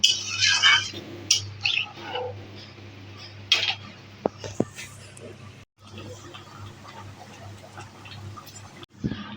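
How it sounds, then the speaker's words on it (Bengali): A spoon stirs mung dal with taro leaves in a metal pot, giving scattered scrapes and sharp clinks against a low steady hum, with a few louder knocks and brief pauses. "তালা কচু পাতা নিয়ে নিয়েছিলাম সেটা দিয়ে দিচ্ছি দিয়ে এবার ভালো করে নাড়িয়ে নেব"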